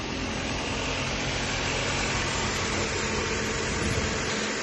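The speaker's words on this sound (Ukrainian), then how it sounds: "ну ще було б добре попробувати включити двигун" A 2014 Hyundai Sonata Hybrid's engine idles with a steady, dense hum, unchanging, broadband and constant, with no speech over it.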